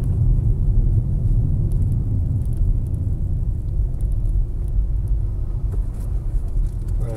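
Car rolls along the BR 116 highway in heavy holiday traffic, a steady low road rumble and engine drone filling the cabin throughout, with no talking.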